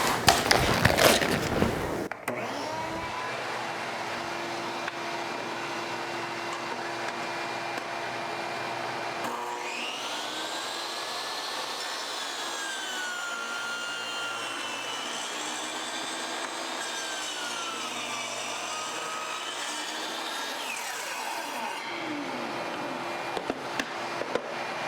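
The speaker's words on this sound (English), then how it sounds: "I'm going to fire up the dust collection, fire up the saw, make a cut in this chunk of birch" Dewalt 10-inch job site table saw spinning up and cutting a hard chunk of birch while a dust collector runs, a loud steady motor whine with a rising, wavering blade tone during the cut, then settling.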